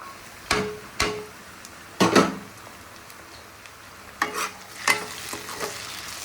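Tomatoes and curry leaves being stirred into browned onions in a frying pan for a country mushroom curry: a handful of distinct scraping stir strokes over a low sizzle, close and fairly quiet, with no talking.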